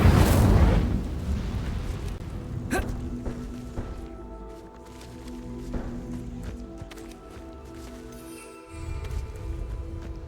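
Incendio fire spell cast in the video game Hogwarts Legacy, a loud whooshing burst at the start that fades into crackling and scattered impacts over background game music.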